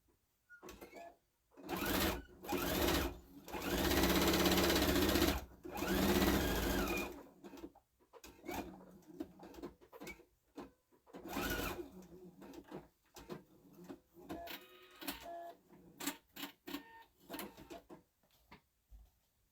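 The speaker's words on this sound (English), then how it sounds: "Then you just sew the bottom." A sewing machine stitches the bottom of a fabric bunny Easter basket in short bursts, with one long steady run in the middle and brief stops and shuffles between, close and fairly quiet.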